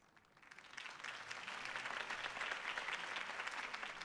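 Sustained crowd applause at a campaign rally in the video game Batman: The Telltale Series, swelling from near silence within half a second into a steady, dense wash of clapping that holds to the end.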